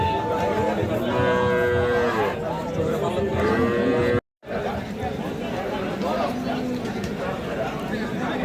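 Cattle low repeatedly at a busy livestock market in Hazratpur, Keraniganj, with long moos rising over steady crowd chatter and people talking nearby, broken by a brief silent gap midway.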